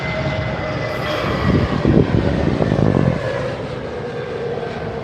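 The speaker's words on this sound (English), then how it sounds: "It's the A320 Neo just in." An Airbus A320neo arrives on runway 27R at London Heathrow, its engines a steady, loud broadband roar that swells in the middle as the jet passes close by, then eases into a fading rumble.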